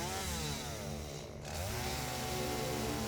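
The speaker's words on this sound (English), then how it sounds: "I think the chainsaw sound is either you like it or you don't like it" A chainsaw runs in the video game Satisfactory, a loud, continuous buzzing engine whine that dips briefly and rises again, with no talking.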